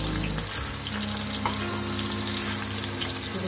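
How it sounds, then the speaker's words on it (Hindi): Bullet kababs fry slowly over low heat in oil, making a continuous dense sizzle with a faint tonal hum beneath. "तो स्लो स्लो पे करना है ताकि वो अंदर तक पूरे पूरे सिक जाए, फ्राई हो जाए, अंदर से अच्छे से कुक हो जाए।"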